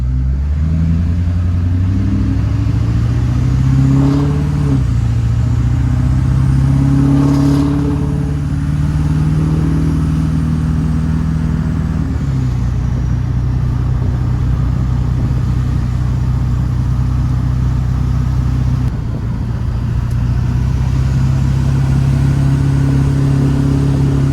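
LB7 Duramax diesel truck engine pulling hard uphill with an intake upgrade, locked out of overdrive; a loud, steady low drone that climbs in pitch through the gears, with short dips at shifts and no talk.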